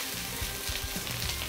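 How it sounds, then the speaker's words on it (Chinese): Shrimp fry in a little hot oil in a pan, giving a steady, dense sizzle that fills the short moment without any talk. "我们就可以把虾放下去煎的了"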